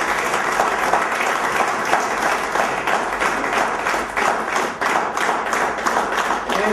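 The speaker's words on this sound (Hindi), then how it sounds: "तालियों के साथ।" Sustained applause at a federation AGM meeting as a guest is honoured with a shawl: many hands clapping in a dense, steady patter, moderately loud and continuous with no speech over it.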